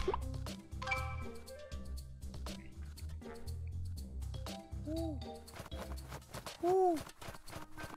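Owl hoots from the Owl Drop obstacle in the PC game Stream Animals, two rising-falling calls over busy game music and effects, the second louder near the end.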